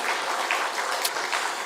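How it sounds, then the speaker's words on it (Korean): A church congregation applauding during a Sunday service, a short, steady wash of many hands clapping together. "우리 다시 한번 하나님께 영광의 박수 올려드리겠습니다."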